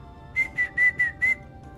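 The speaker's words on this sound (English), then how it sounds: "There's some seesaw whistling" A person whistles five short pitched notes in an even rhythm, fairly loud and close, with a quiet hum underneath and no voices.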